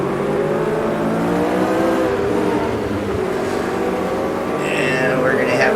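Vintage Lotus 49C Formula 1 car in a racing sim at the historic Mexico circuit, a high screaming engine rising and falling through gear changes, steady and close, with a faint tire squeal near the end.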